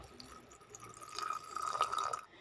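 Water is poured onto cooking masala, a faint trickling and pattering that builds over about a second, quiet and without voices.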